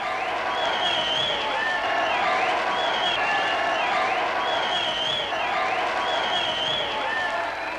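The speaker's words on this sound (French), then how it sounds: "On l'applaudit." A TV studio audience applauds and cheers as a princess guest is introduced on a talk-show set. The clapping and crowd noise stay dense and steady, with bright tonal accents running through it.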